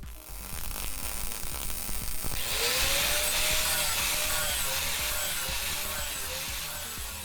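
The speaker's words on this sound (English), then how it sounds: "Here's what the welding lab sounds like now on a school day." A high school welding and metal shop lab on a school day fills with continuous workshop noise: grinding, sizzling and rubbing tool sounds layered together, swelling louder midway and staying dense throughout, with no voices.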